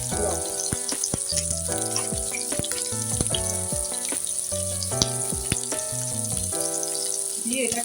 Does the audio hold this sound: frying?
yes